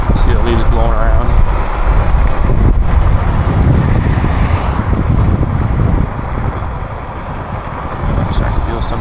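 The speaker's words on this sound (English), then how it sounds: "But she is getting windy." Strong storm wind roars and buffets a microphone outdoors, a loud continuous rush with low rumble that eases slightly toward the end.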